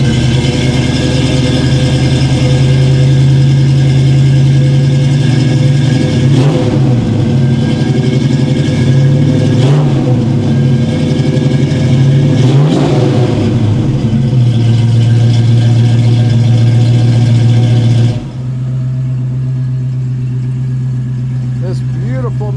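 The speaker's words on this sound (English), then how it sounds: "1967 Mustang is ready to go. Got a 302 in it, C4, 3-speed transmission." A 1967 Ford Mustang with a 302 V8 and C4 automatic idles with a deep steady rumble and is revved three times in quick swells, loud and close, settling into a lower idle at the end.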